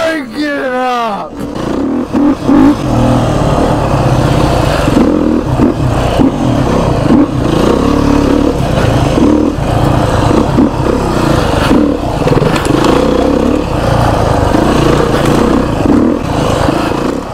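A dirt bike engine revs and labours continuously along a technical trail at the Midhurst trail ride, loud and close with uneven throttle surges and some clatter, with talk mixed in.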